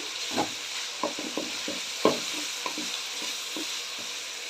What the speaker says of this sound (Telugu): ఇప్పుడు ఇందులోకి పచ్చిమిర్చి కూడా వేసుకుంటున్నాను ఇవి బాగా వేగనివ్వాలి